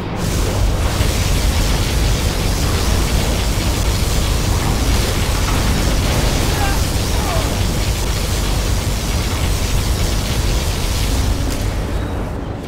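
The particle cannon superweapon fires in Command & Conquer Generals. It comes as a dense, roaring wall of blasting noise that stays loud and constant for over twelve seconds, with no voice.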